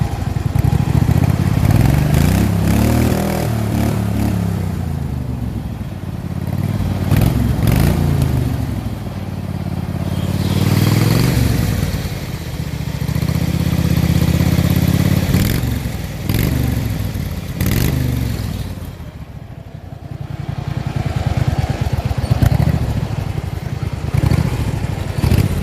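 A homemade racing lawn mower's engine runs close and loud in neutral, chugging and rising and falling with repeated revs that never settle into a smooth idle, with rattling clatter throughout.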